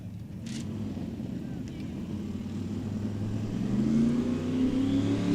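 A drag racing car spools up on the starting line, its engine drone rising steadily in pitch and loudness toward a launch, heard from a distance with faint background noise.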